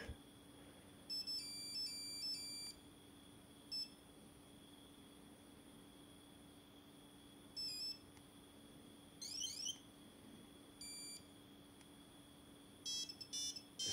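Classic mobile phone ringtone: short bursts of bright electronic beeping tones repeating at irregular intervals, fairly faint against a quiet steady hum, no talking.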